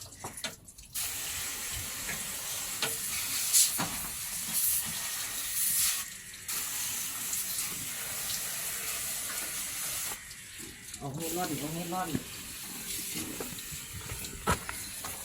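Water sprays steadily with a broad hiss while the radiator of a sound-system truck is being washed, continuous across the clip with brief drops and shifts in the spray.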